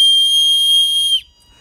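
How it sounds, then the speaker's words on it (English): A whistle built into a Sharp n Spark survival fire-starter tool gives one loud, steady, shrill blast lasting just over a second, then cuts off abruptly into near silence. "Okay, so you do have a whistle in there"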